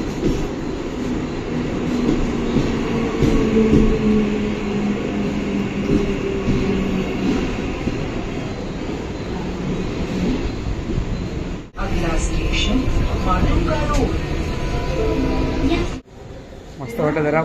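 A Mumbai local train runs from Andheri to Churchgate, its loud, steady interior rumble and rattling wagons lasting throughout, with occasional wheel squeal and a brief jolt, while passengers talk underneath.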